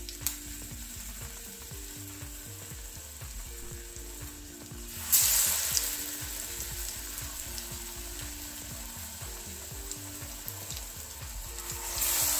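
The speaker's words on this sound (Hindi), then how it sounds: "अब हम आलूओं को उसी बैटर में से कोटिंग करके डालेंगे और गैस की फ्लेम को हम मीडियम रखेंगे।" Batter-coated potatoes shallow-frying in hot refined oil over a medium gas flame, a steady loud crackling sizzle throughout that swells sharply about midway as more pieces go in, with a faint rhythmic mechanical ticking underneath.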